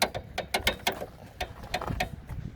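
A Subaru Baja (2003–2006) hood release lever being worked gives a string of quiet, irregular mechanical clicks and ratcheting rattles, close by, with no talking.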